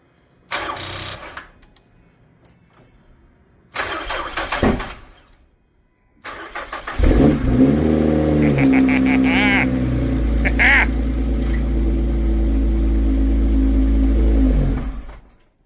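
A Lotus Evora S engine cranks and catches after a rebuild, revving briefly before settling into a loud, steady idle close by; a couple of short bursts of sound come beforehand.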